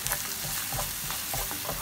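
Stuffing masala for bitter gourd, with dry mango powder added, is stirred in a hot pan: a busy close sizzle with rapid repeated scraping and clinks of the spoon.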